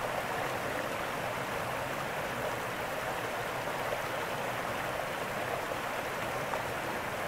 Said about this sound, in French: Je suis au milieu du petit torrent là, sur un pont. Il y en a de la flotte, hein, là,